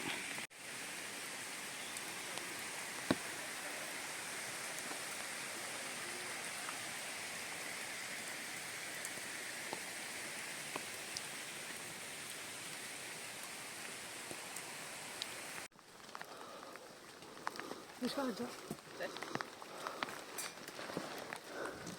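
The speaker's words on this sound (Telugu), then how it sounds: "ఆకాశమంతా మేఘావృతమై ఉంది, వర్షం పడుతుంది." Rain falls under a cloudy sky as a soft, steady, faint hiss, with a brief knock partway through and some rustling handling noise toward the end.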